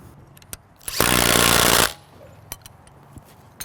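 A power tool drives screws during a door hardware install on a Conex box training center, one loud, close burst of whirring lasting about a second, with scattered light knocks and handling sounds before and after.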